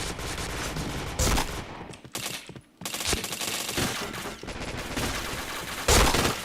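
Rapid gunfire in an online shooter game, loud bursts of automatic fire with short gaps and a few sharper single shots, alone without talk.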